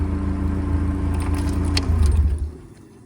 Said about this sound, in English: I don't think we need the engine to be running for the rest of our exterior tour, so I'm going to cut it